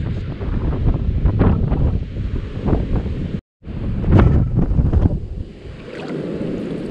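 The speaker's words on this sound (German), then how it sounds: "Oh mein Gott, der Wind ist frisch." Strong wind gusting over a beach in Mexico, buffeting the microphone in loud rumbling bursts, with a brief dropout midway and faint surf in the background.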